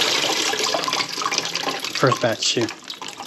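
Tap water runs steadily over kale greens being rinsed in a home kitchen, a close, constant splashing hiss while a person talks over it.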